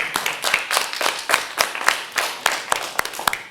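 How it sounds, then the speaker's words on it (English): Scattered claps from a small audience at a panel discussion, irregular and moderately close, a thin round of applause with no voices. "That deserves a round of applause right there."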